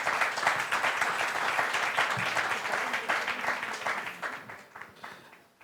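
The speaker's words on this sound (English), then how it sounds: "So please give them a warm round of applause." Warm audience applause for guests at an India Fest panel discussion, a wash of many hands clapping that holds steady and then thins out and tapers toward the end.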